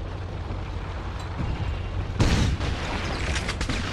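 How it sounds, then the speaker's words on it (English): A shotgun in Resistance 3 fires a concussion grenade as secondary fire, giving a sudden loud blast with a rumbling tail that rises out of steady low game ambience. "I modified its secondary fire with longer-range concussion grenades"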